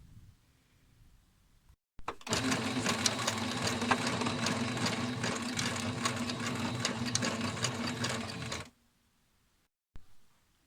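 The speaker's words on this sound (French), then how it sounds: "Cousez bien sur 1 cm." A sewing machine runs steadily for about six and a half seconds, stitching a 1 cm seam on fabric for box and knife pleats, with back-and-forth lockstitching, then stops abruptly, leaving near silence and a brief click at the end.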